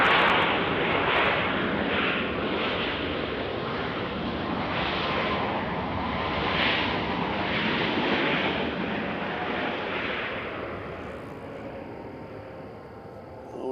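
Southwest Airlines jet arriving at Nashville International Airport, a broad, roaring engine rush from moderately far off, swelling slightly and then fading toward the end, steady and without talk.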